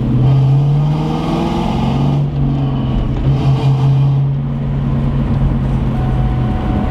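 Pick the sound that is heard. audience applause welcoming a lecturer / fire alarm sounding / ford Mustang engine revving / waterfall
ford Mustang engine revving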